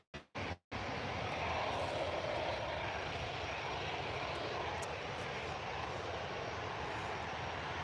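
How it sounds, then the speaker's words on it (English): Engines of an Emirates Airbus A380 at Manchester Airport, a steady loud roar with broad rumbling noise that holds at the same level throughout, heard from nearby outdoors. "The Emirates A380 has just arrived at the airport"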